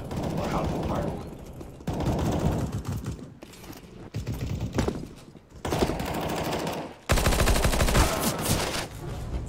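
Automatic gunfire in the video game CS:GO rattles in several dense bursts with short breaks, loud and close, mixed with other game sounds.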